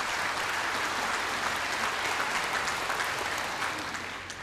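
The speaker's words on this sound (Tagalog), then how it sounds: "hingi po ako ng konti palakpak sa inyo" Sustained applause from an audience at a ceremonial classroom turnover event, dense steady clapping held at an even level throughout before easing slightly at the end.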